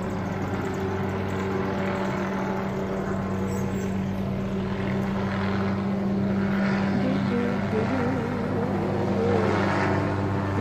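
A steady low drone of a police helicopter circling low overhead, continuous and fairly loud, with faint voices and background noise underneath.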